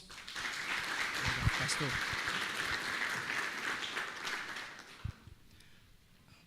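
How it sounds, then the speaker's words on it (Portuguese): Applause from a church congregation before a sermon, a steady wash of clapping for several seconds that thins out near the end, with someone speaking over it. "Com aplausos."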